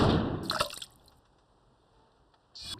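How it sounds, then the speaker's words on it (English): A single water drop falls and drips in a quiet, tense anime scene from Berserk, with brief splashy bursts at the start and end around a near-silent stretch. "The water drop that we have been hearing since the beginning"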